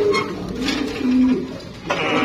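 A large pigeon, longer than a forearm, coos close and loud at a pigeon farm, giving a few throaty, rolling coos with light rustling between them.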